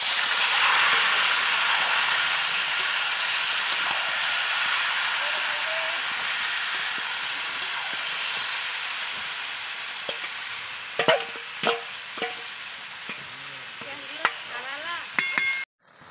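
Marinated meat drops into a hot pan and fries with a loud, steady, hissing sizzle that slowly eases, followed near the end by several sharp clinks and scrapes of a spoon stirring against the pan.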